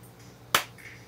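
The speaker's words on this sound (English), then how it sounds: "So you can see I can just clap in here." A single sharp hand clap right into a microphone in a home workshop, standing out loud and close against quiet background hum.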